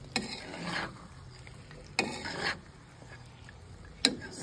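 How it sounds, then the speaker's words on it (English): Beef and broccoli being stir-fried in a pan, with three separate bursts of scraping and sizzling as the food is tossed and stirred, close and fairly quiet with pauses between. "we're gonna mix this up like we're stir frying it"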